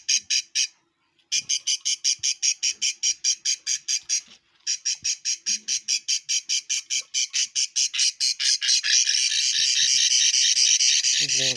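Farm birds squawk and squabble in rapid, shrill, evenly pulsed bursts that pause briefly, resume, then run together into a dense continuous chatter. The calls are close and loud, with no talking.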